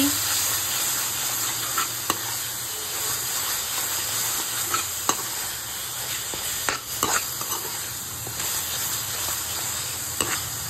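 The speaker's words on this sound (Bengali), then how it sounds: "এবার সমস্ত উপকরণ আমি ভালোভাবে কষিয়ে নিচ্ছি" Spices with sugar, salt and cumin powder being sautéed for chana masala, a continuous hissing sizzle under scattered clicks and scrapes of a spatula, steady and close throughout, with no one talking.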